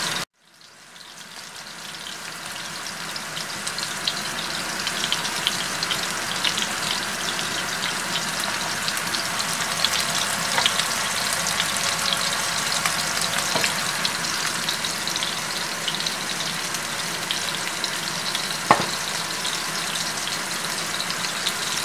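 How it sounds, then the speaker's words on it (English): Steady, dense sizzling of kangaroo or wild goat burgers frying in an oiled pan, loud and continuous with a faint crackle throughout and no talking. "I've lightly oiled my pan and now I've got my burgers sizzling away over there"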